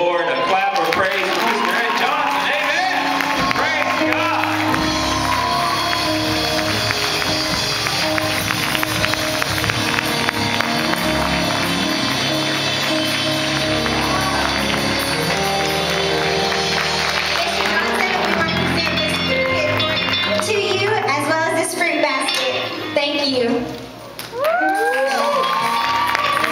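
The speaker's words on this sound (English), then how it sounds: "Let's give the Lord a clap of praise." A church congregation claps and cheers in praise, a dense, loud, sustained roar of clapping and voices filling the room, briefly dipping near the end before surging again.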